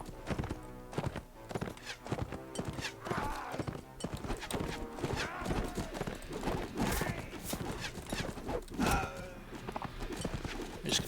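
Rapid, rhythmic hoofbeats of a fast horse galloping in the video game Mount & Blade: Warband, a dense continuous clatter of clip-clop strikes with occasional whinnies and a muffled battle-field ambience behind.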